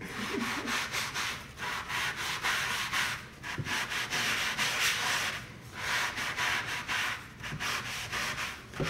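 A sponge rubs over wood being aged with vinegar, coffee and charcoal, giving steady rhythmic scrubbing strokes that swell and fade in close, continuous passes with no talking.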